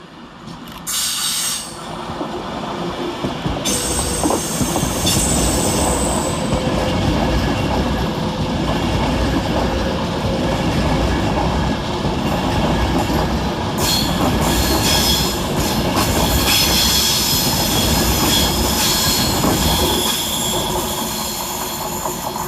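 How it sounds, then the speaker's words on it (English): Avanti West Coast Class 390 Pendolino, unit 390-011, powering up the incline at Edge Hill station from Liverpool Lime Street toward London Euston, a loud sustained rumble of wheels and traction with squealing rail noise lasting the whole stretch. "Next to power up the hill for Avanti West Coast is 390-011, working 1 Alpha 59 from Liverpool Lime Street to London Euston."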